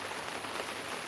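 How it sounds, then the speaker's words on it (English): Heavy rain pours steadily in a backyard garden with fruit trees, a dense even hiss of falling water, faint and continuous with no voices. "the rain is really coming down and I don't want to get this phone wet"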